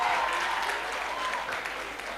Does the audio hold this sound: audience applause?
yes